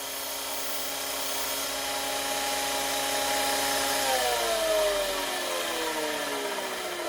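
A power grinder works metal on the rear suspension of a 1936 Chevy Coupe, giving a steady, loud, continuous whine and rush that drops in pitch near the end as the tool winds down.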